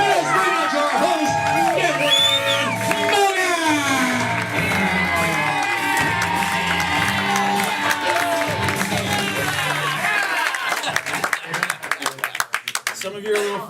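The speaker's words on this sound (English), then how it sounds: "and the crowd goes wild!" An audience at a First Coast Comedy show cheers loudly, whooping, shouting and clapping in a dense, sustained roar. Scattered sharp claps come through as the noise thins toward the end.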